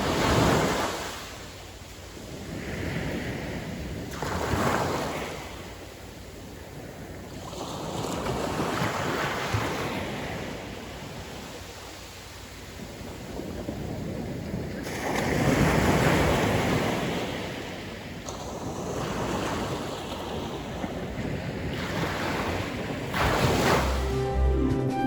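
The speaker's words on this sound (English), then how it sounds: "Also, I like the sound of water on the beach, so here you go." Ocean waves wash onto Taylor's Mistake beach in New Zealand in chilly weather, the surf swelling and receding in repeated surges every few seconds, with heavy wind buffeting the microphone.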